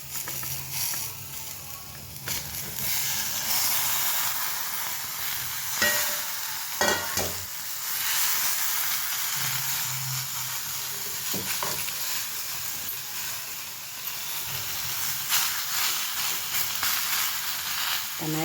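Tomatoes go into a pan of frying garlic, making a steady, moderately quiet sizzle with intermittent soft stirring scrapes and a few brief louder bursts over the whole stretch.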